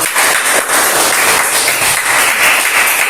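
A class of students claps steadily together in a classroom, dense and loud applause lasting a few seconds.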